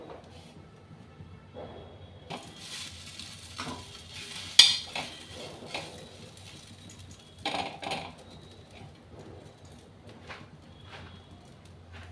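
Egg sandwich bread toasting in a pan with ghee, a faint sizzle under sparse spatula scrapes and light clinks against the pan, one sharper clatter midway, close but quiet with no talk.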